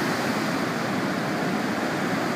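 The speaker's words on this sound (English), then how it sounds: "enjoy the waves and the sand and the day. Big, big sets coming through" Ocean surf breaking steadily on a sandy California beach with big sets rolling in, a continuous loud wash of waves without pause and no voices.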